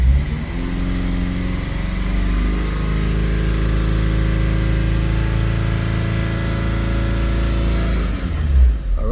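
A Kia Sorento engine with a hard-start complaint and low fuel pressure runs with a loud, steady idle and a low droning hum, nearly constant for about eight seconds before it settles and stops.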